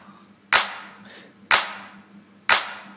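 A clipped drum-machine clap sample with a reverb tail, hit three times at a steady one-per-second pace, each a sharp, loud crack decaying into a short wash, with no voices.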